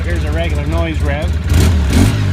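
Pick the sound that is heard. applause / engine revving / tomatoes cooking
engine revving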